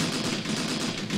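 Sustained gunfire in the tactical war game Graviteam Tactics: a dense, steady roar of distant machine-gun and rifle fire blending into a continuous rattle.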